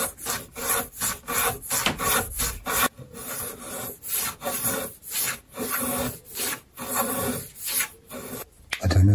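Hand chamfering of a wooden parlour guitar brace, a series of rhythmic rasping file or sanding strokes across the wood, close and loud, about a dozen strokes with brief gaps between them.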